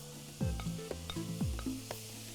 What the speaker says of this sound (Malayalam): ഇനി നമ്മൾ വറുത്ത് വെച്ചേക്കുന്ന പനീറും കൂടെ ഇതിനകത്തോട്ട് ഇടും